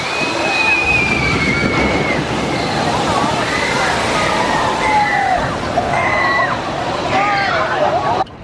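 Rushing, sloshing water roars steadily from the Jurassic Park River Adventure ride at Universal Orlando's Islands of Adventure, with a crowd murmuring and shrieks rising over the splashing.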